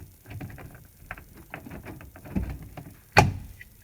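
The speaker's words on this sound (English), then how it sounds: "and the door handle will pull off." The sliding-door handle of a 2004 Honda Odyssey comes off with a sharp plastic snap near the end, preceded by a series of light clicks and taps as it is worked loose, close up and without talk.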